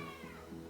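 A Sphynx cat gives a single short, faint meow with a rising and falling tone. It is quiet and heard alone, with no talk.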